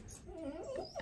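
A dog gives a short high whimper at a farm, faint and brief over a noisy background.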